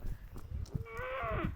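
Close by on a ranch, a heifer lets out one drawn-out low moo while a horse works the cow. Soft hoof thuds and scuffling sound underneath.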